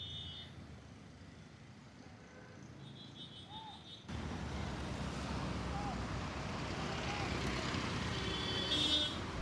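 Street traffic noise captured through a RODE Wireless Micro camera kit with noise reduction, a steady faint wash of road hiss that jumps slightly louder midway and continues as a constant low background, with no talk.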